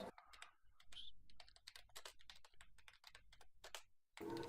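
Someone types on a computer keyboard during a tabletop Dungeons & Dragons session, producing a rapid, steady run of close, crisp key clicks with brief pauses and no talking.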